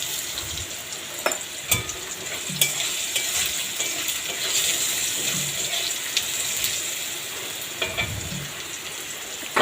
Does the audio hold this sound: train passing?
no